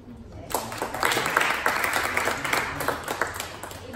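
An audience at an evening entrepreneurship talk bursts into applause after a quiet moment, then keeps up dense, steady clapping.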